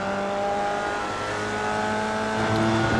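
A Formula Vee race car engine in the iRacing video game, on the Virginia International Raceway North track, drones in a steady, close onboard hum with harmonic tones that rise slightly as the throttle builds toward the end.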